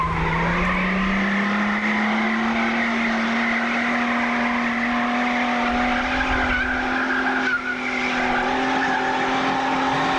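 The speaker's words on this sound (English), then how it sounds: "That's a good burnout." A car at an Australian 1980s street-car event does a burnout: tires squeal in a loud, continuous howl whose pitch climbs slowly over a roaring engine, with no gaps for the whole stretch.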